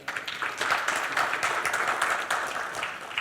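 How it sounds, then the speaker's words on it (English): An audience at a literature festival applauds a speaker with steady, dense clapping that holds for several seconds and fades slightly toward the end. "Let's have a huge round of applause for Sameer."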